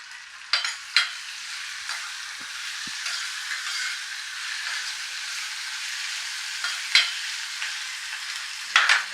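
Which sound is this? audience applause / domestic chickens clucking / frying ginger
frying ginger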